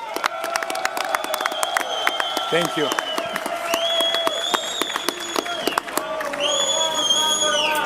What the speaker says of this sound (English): a huge round of applause for the new undisputed light heavyweight champion of the